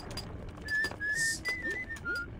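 A character whistles a wavering, tuneful melody in the video game Grim Fandango Remastered, clear and fairly close over faint background sound.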